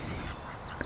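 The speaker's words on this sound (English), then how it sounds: "Some pretty little ducks there." Ducks quack close by outdoors, a short burst of nasal calls over a steady background with no talking.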